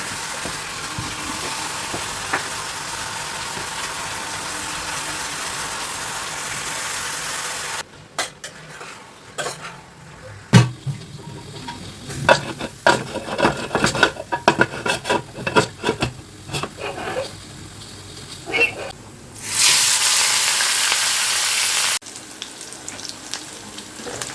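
An egg fries in a pan with a soft, steady sizzle, broken in the middle by a long stretch of scraping and clattering from a spatula against the pan. The bright hiss returns briefly near the end.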